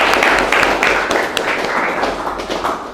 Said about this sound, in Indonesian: mari kita tepuk tangan dulu sekali lagi